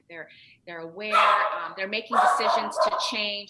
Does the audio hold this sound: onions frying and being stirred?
no